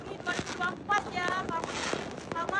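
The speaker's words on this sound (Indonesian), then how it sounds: "Oh, kembang api semua." New Year fireworks crackle and pop in scattered bursts overhead, with whistling rising streaks mixed among the sharp reports and some crowd noise in the background.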